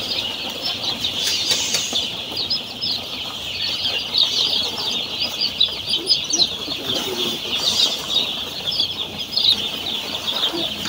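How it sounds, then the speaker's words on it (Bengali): Young chicken chicks flap and flutter while being chased, a busy continuous rustle of wings mixed with soft cheeping and clucking, close and fairly loud throughout. "মুরগির বাচ্চাগুলো তাড়াই দাও।"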